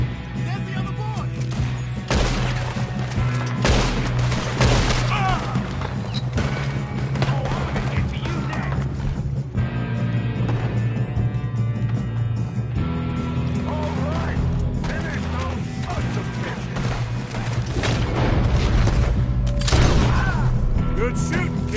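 Gunfire crackles through a Red Dead Redemption 2 shootout, bursts of shots, booms and clattering mechanisms piling up in dense waves under frequent game dialogue.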